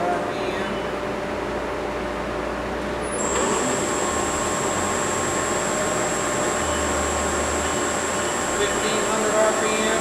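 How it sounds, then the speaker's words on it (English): A 2008 South Western Industries TRL1840SX engine lathe starting its spindle at 500 RPM, with a steady high whine and motor hum rising partway in and holding constant over a noisy shop background. "we can start the spindle"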